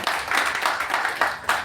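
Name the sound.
audience applause for award winner Sheetal Singh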